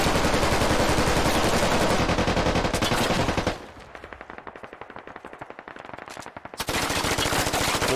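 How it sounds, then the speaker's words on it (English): Dense automatic gunfire in the video game Squad, loud rapid bursts in long runs with a brief quieter stretch of more distant shots in the middle before the close, heavy firing resumes. "Some blind fire coming in."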